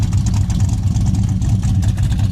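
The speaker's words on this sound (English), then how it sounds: "Dual exhaust sounds good." A 1969 Plymouth Road Runner with dual exhaust idles and burbles nearby, a deep, loud, pulsing engine rumble with uneven throttle blips over a couple of seconds.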